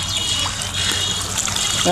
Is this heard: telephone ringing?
no